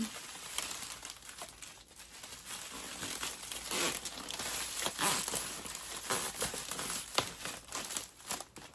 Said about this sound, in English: All right, I'm going to zip tie this up.